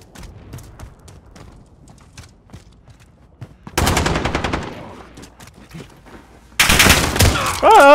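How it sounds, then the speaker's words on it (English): Shotgun blasts in the video game Modern Warfare, fired at long range: scattered quiet clicks and small shots, then two loud, broad bursts of gunfire about three seconds apart, the second ringing on. "Long range shotgun!"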